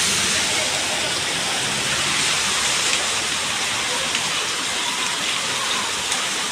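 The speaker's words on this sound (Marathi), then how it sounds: "हिवाळा चालू आहे का काय समजत नाही, एवढं पाऊस चालू आहे डेंजर" Heavy rain pours down steadily with water rushing along a flooded road, a dense continuous roar that stays loud and even throughout with no pauses.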